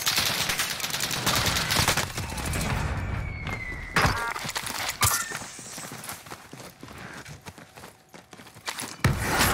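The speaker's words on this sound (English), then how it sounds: "We got incendiary rounds flying at us." Rapid gunfire in the video game Call of Duty: Warzone, with dense bursts of shots and sharp cracks through most of the stretch, thinning to scattered hits near the end.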